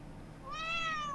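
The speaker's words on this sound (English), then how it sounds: "Yeah, cat." A cat meows once in the video game The Legend of Heroes: Trails Into Reverie, a single short rising-and-falling cry, clear and fairly close after a moment of quiet.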